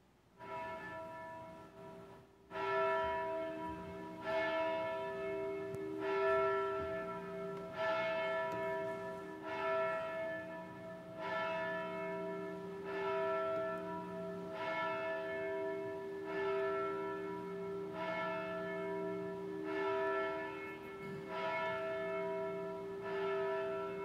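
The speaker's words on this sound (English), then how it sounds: "Our bell will call us to worship" A single church bell tolls to call a congregation to Sunday worship, its strokes ringing out at a slow, steady rhythm of about one every two seconds, clear and resonant with long decaying overtones and no voices.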